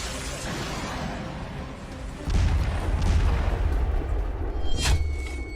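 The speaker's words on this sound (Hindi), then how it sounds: "डूरंड लाइन पर तालिबानी तोपें, पाकिस्तान थर-थर कांपे" Artillery fire from Taliban cannons on the Durand Line booms out in heavy, rumbling low blasts over a constant noisy background, with one sharper crack near the end.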